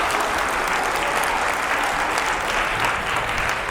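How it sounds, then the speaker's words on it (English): Steady applause from a talk audience fills the moment, a thick, even wash of many hands clapping without a break. "Give them a round of applause."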